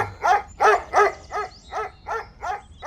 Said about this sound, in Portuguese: o cachorro do vizinho veio latindo.